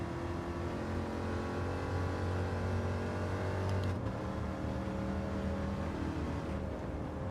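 A Corvette's engine in Gran Turismo 7, played in VR, idles with a steady low drone and swells briefly in a light rev from the cockpit before settling back, with no talking.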